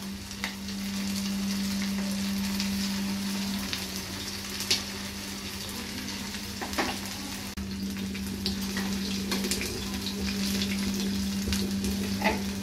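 Chicken wings frying in a pan give off a steady, close, dense sizzle with a constant low hum beneath it, broken by a few brief clinks and stirring sounds, and no one speaks.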